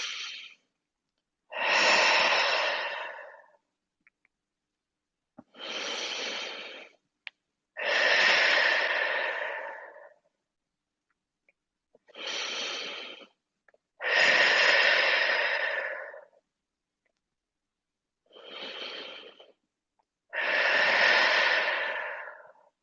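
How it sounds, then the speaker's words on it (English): Deep, slow breaths drawn in and let out during a yoga and pilates fusion exercise, eight broad breathy bursts alternating short inhales with longer exhales, close and clear with silence between them. "Deep breath in."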